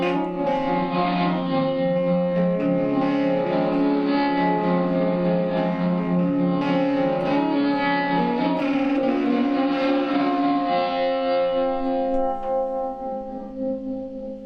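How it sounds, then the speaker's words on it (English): Sustained instrumental tones washed in heavy swelling reverse reverb from a guitar effects pedal that builds and trails into each note, loud and continuous, fading slightly near the end. "this is with the reverse reverb effect on"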